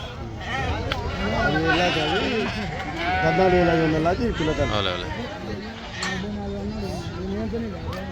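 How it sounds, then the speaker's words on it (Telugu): Sheep at the Pebbair sheep market bleat repeatedly and loudly, overlapping calls rising and falling throughout, over a steady hubbub of crowd chatter close by. "గొర్రెలు అయితే ఈ విధంగా ఉన్నాయి మరి"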